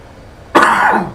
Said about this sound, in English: I still can't shift that bloody cough I've had since Christmas